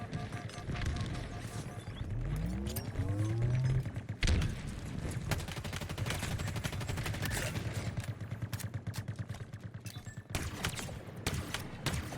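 Gunfire rattles from a Halo multiplayer match, with dense rapid shots, a sweeping whoosh and a heavy impact, while a player talks over the fighting.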